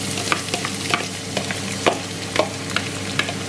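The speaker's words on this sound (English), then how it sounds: "Now I'm going to fry my carrot." Carrots fry in hot oil in a pot for fried rice, a steady close sizzle broken by repeated light scrapes and clinks of stirring at an uneven rhythm, with no talking.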